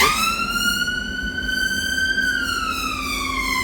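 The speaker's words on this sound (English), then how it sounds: "Just let the ambulance pass." An ambulance siren wails steadily on a street in York, its rising and falling tone sliding past and drifting lower as the vehicle moves by, loud and close throughout with no talk over it.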